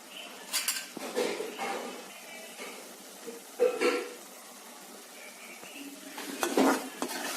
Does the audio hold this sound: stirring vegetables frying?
yes